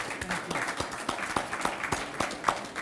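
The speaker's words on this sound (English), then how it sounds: "Let's give a round of applause to the panel." Audience members at a city forum clap for a panel, a brief, soft round of applause with a few sharper claps standing out near the end.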